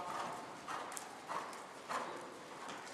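Horse hooves clip-clop at a walk during a riding lesson, four soft, evenly spaced footfalls at moderate distance over steady background noise, with no talking.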